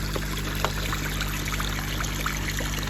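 A koi pond's filter pump running, with water trickling and flowing steadily into the filter, a constant dense splashing wash and a low motor hum underneath.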